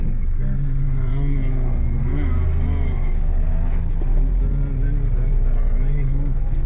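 A car drives through busy traffic on a narrow internal road, with a continuous low engine hum and road rumble from inside the vehicle, steady and close, with voices talking over it.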